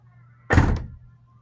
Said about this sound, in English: And after I did that, the door closes